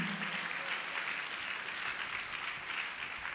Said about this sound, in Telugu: చప్పట్లు కొట్టి ఒకసారి గట్టి దేవుడు మహిమపరచండి